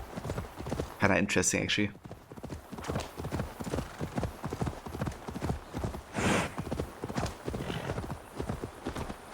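Horse hooves clip-clop steadily through the Assassin's Creed Valhalla game world, a regular rhythmic patter running beneath near-continuous talk from a man.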